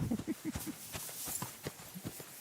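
Horse summoned in Kingdom Come Deliverance 2, its hooves clip-clopping as it gallops up, a rapid run of close, distinct hoofbeats settling into slower steps.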